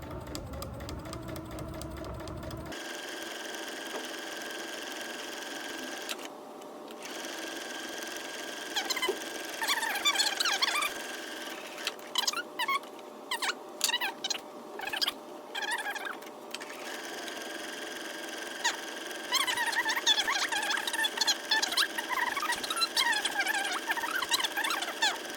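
A sewing machine stitches a messenger bag in steady, fairly quiet runs of rapid mechanical whirring, stopping and starting several times.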